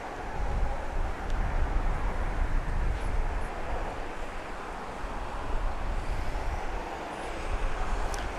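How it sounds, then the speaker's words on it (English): Jet airplanes taking off and landing at Grand Cayman's Owen Roberts International Airport (GCM), a steady broad engine roar with wind noise that swells and eases, heard alone without talk. "planes taking off and landing."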